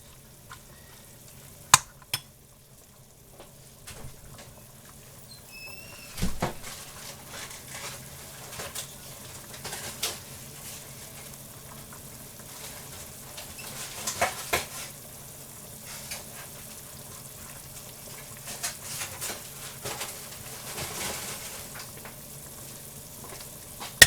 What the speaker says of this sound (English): And I'm going to add an egg.